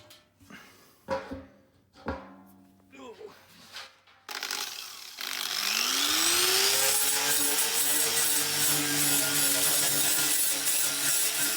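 A piece is cut to length during a cyclone shop vac build. A few scattered knocks and handling thumps come first, then a power saw spins up with a rising whine into a loud, sustained cutting roar.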